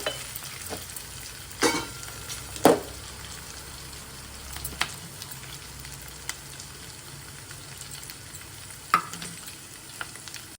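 Something frying gently in a pan for Bagara rice gives a low, steady sizzle, punctuated by a few distinct scraping stirs and clinks spread across the stretch, close by with no talk.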